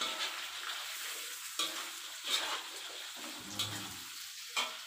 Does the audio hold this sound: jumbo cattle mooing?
no